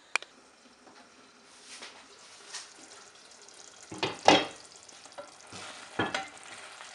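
Rohu fish with poppy seeds cooks in a pan with a faint, steady low sizzle, broken by a sharp clack at the start and a few louder scraping, stirring sounds and clatters near the end.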